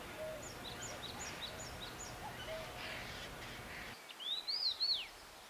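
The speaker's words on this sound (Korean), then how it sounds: "우선 새소리들이 그 조용한 가운데 이렇게 뭔가 깨우는 듯한 그런 느낌이 많이 들죠" Birds call at dawn in the quiet Jirisan mountains, Sancheong, Gyeongnam, with soft repeated chirps early on and a louder rising-and-falling whistled call near the end, over faint wind and grass.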